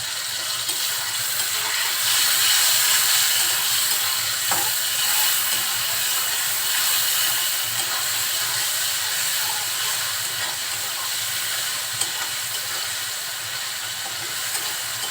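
Garlic paste and spices fry in hot oil for a prawn and green banana curry, giving off a loud, unbroken sizzling hiss that holds steady throughout.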